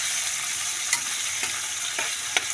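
Vegetables sautéing in a pan, a loud continuous hiss of frying oil close up with a few faint clinks of a stirring utensil.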